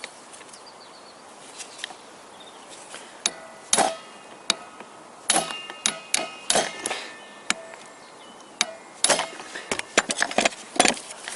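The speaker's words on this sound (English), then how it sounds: "I use special hammer tool. It opens picked bolts." A hammer tool strikes stuck bolts on an OMC Evinrude 4 HP outboard motor, sharp metallic knocks coming in irregular bursts, some quick runs of blows, others single, close and clear.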